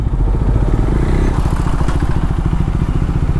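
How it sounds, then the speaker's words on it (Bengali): A Yamaha R15 V3 motorcycle ridden without an exhaust gives a loud, continuous, rough engine roar with a rapid throbbing pulse, close and steady throughout. "আমার বাইকে হাওয়া দেওয়া হয়ে গেছে আর এখন গাড়ি তো পুরো স্মুথলি ভাগছে।"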